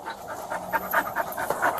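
A dog pants in quick, even breaths, close but soft, with no other sound over it.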